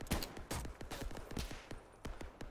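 Rapid gunfire in a Minecraft shooter game, a quick series of faint, crisp shots in irregular bursts, fairly quiet and without speech.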